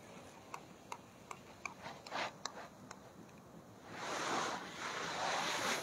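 Strong wind blows by the sea at a fishing spot. A few faint ticks and taps come first, then a broad gusty roar rises and buffets steadily, with no speech.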